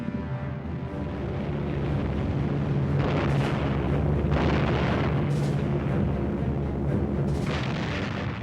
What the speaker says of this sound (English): RAF bombers and fighters pounded Japanese positions.